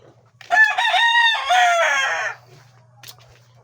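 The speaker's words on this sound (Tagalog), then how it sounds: "maraming mga manok dito na ng kapitbahay tol ba." A rooster gives one loud, close cock-a-doodle-doo crow lasting about two seconds. Faint clucking from neighbours' chickens continues around it, and a low steady hum runs underneath.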